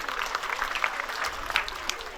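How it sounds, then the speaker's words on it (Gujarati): Applause from a crowd at a community mass wedding ceremony, a steady dense patter of clapping lasting throughout, moderately loud with a few sharper claps standing out. "જોરદાર એકવાર તાળીઓથી"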